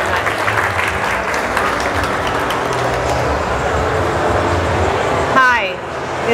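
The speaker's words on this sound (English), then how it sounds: "Round of applause." Conference audience applauding in a hall with odd acoustics during a talk on medical cannabinoids, a dense continuous clapping that holds steady before tapering off in the final second.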